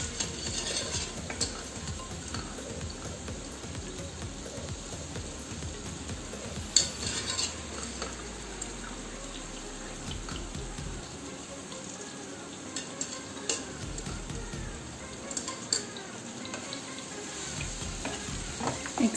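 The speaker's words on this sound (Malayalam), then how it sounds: "ഇനി നമുക്ക് ഇതിലേക്ക് നമ്മൾ കുക്ക് ചെയ്തു വെച്ചിരിക്കുന്ന മട്ടൻ ചേർത്ത് കൊടുക്കാം" Cooked mutton frying in masala for a restaurant-style balti gosht curry, a dense continuous sizzle with the scrape and clatter of stirring against the pot, close up, steady throughout with no voices.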